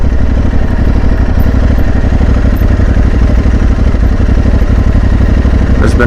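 A Tuareg 600 motorcycle engine runs on a first ride, close and loud, with a steady throbbing drone and fast pulsing firing beats that hold fairly even throughout.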